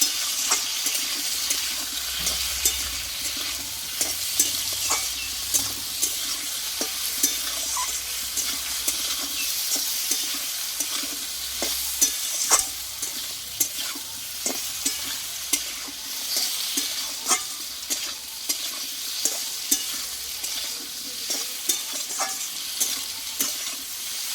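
Potatoes with Kashmiri chili powder and salt are stirred in an oily pan for a Bengali vegetarian dish, giving a continuous close sizzle with rapid, repeated scraping and clicking strokes throughout.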